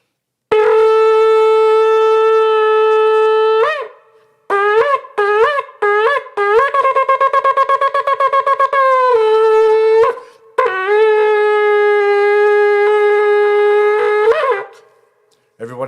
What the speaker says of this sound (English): I'm going to blow the shofar